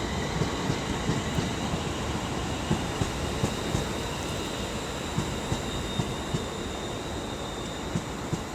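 A London Midland train passing through Birmingham International on the West Coast Main Line, with a steady roar of rolling stock and regular wheel clicks over rail joints, continuous and fairly close, with no voices.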